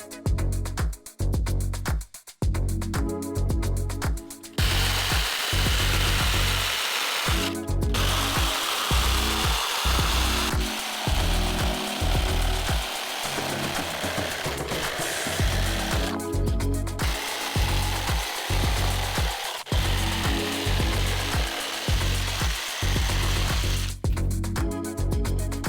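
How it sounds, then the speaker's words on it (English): A jigsaw cuts wooden shelf pieces with a loud, close, rapid buzzing rasp, running in long stretches broken by short stops and restarts. "I used the jigsaw to cut out 2 long pieces for each side and then 4 squiggly pieces for the shelves"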